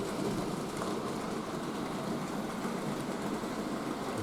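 A Hornby model railway Pacific locomotive hauls a long train of heavy kit-built wagons, giving a steady, quiet, continuous running rumble with no pauses or voices.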